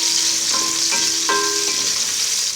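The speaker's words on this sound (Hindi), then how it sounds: "अब इसके अंदर मैं प्याज ऐड करूँगी। प्याज को ब्राउन करेंगे हल्का सा।" Onions sizzle loudly in a pan while being lightly browned, a dense close frying hiss broken by a few brief stirring clinks.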